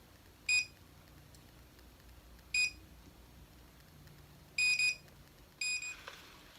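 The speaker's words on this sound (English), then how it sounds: "When it beeps quickly, then it's going to be done." An MKBOO automatic hair curler gives four short, bright electronic beeps spread over several seconds, with the later ones coming in quicker pairs, against a quiet background.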